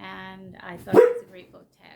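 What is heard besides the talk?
dog barking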